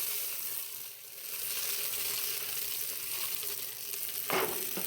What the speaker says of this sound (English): So here we have our butter nice and hot. You don't want it to get too hot and burn. Toss in my pasta, get that nice and coated in the butter.